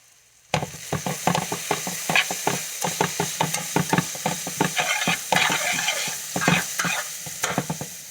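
Onions caramelizing in a pan give off a steady sizzle and fry broken by frequent rhythmic scraping and stirring strokes, close and fairly loud, with no talking.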